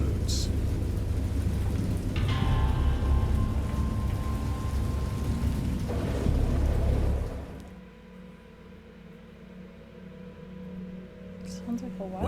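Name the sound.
thunderstorm with rain and thunder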